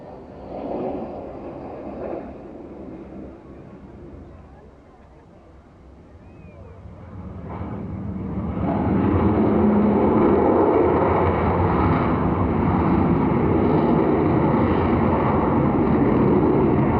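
An Avro Vulcan bomber making a pass at an airshow under a grey, cloudy sky, its broad engine roar starting quieter and rising to a loud, sustained rumble as it nears.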